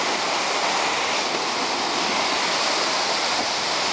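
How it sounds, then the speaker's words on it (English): Floodwater roars through a broken dam in Bristol, Connecticut after Hurricane Irene, a loud, dense and unbroken rushing wash that holds steady throughout with no voices. "You can see the dam totally broke. Water's pouring into Bristol right up against the houses."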